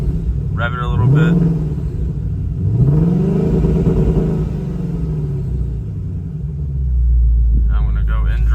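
A Shelby GT500 V8 revs a few times at a standstill with launch control engaged, two rising blips early, then a low idle rumble. A deeper surge swells near the end, close by. Voices briefly murmur over it.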